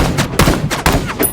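Rapid bursts of sniper gunfire in an animated show, several loud close shots in quick succession with short echoing tails, and no speech over them.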